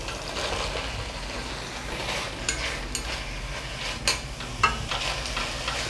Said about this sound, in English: So now what I'm trying to do is cook the mushrooms.